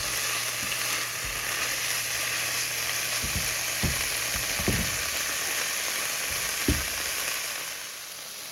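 Food sautéing in a pan with salt and pepper for a cheap budget noodle meal, a steady broad sizzle running throughout with a few soft clicks and scrapes of stirring, close and fairly loud.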